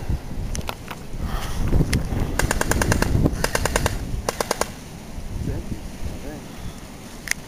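Thompson M1A1 airsoft submachine gun fired outdoors in several quick bursts of rapid clicking shots, with breezy wind noise and ambient rumble in between.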